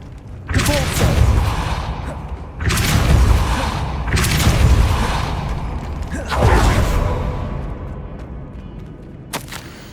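The Repulsor spell fires in Hogwarts Legacy by an altar, producing several loud, heavy whooshing blasts. Each bursts in and then rumbles out over a couple of seconds, followed by a brief sharp click at the end.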